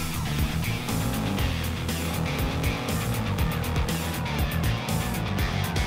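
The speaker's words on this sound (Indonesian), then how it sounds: "Gawat! Salah satu mobil terjebak lumpur." An off-road car stuck in mud on a mountain trail, engine roaring continuously with loud, dense revving and wheel noise, close throughout.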